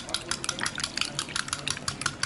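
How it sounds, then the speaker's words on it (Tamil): Egg mixture with chopped spring onions being beaten briskly in a bowl, a fast run of light clinking whisk or fork strokes, close and steady with no talking. "இப்போது இது எல்லாத்தையும் நல்லா ஒன்றா மிக்ஸ் பண்ணி அடித்து எடுத்து வச்சுக்கோங்க தனியாக."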